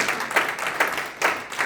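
A church congregation in Brussels applauds during a Sunday service, with bursts of many hands clapping in loose waves that swell and fade every half second or so, moderately loud in a reverberant hall.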